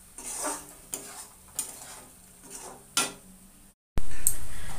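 Vegetables being cooked in a pan in a home kitchen, with several distinct scraping stirs and clinks of a utensil against the pan over a soft sizzle, followed by a brief gap and then a louder, steady hiss near the end.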